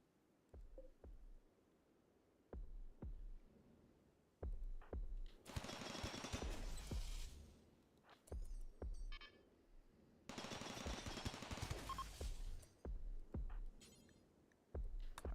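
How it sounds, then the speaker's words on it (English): Turret gunfire in Rimworld arrives as scattered single thumps and a few longer rattling bursts, faint and distant, with no talk. "Got a turret after me."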